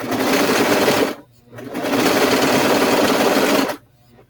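A serger sewing machine stitches a blanket in loud, fast whirring runs, one burst of about a second, a brief pause, then a longer burst of about two seconds before stopping.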